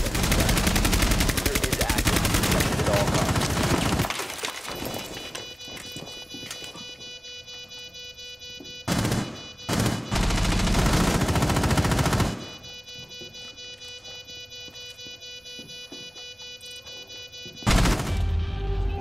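Sustained automatic gunfire rattles loudly in Rainbow Six Siege, a long dense burst followed by quieter gaps and several short, sharp bursts later on.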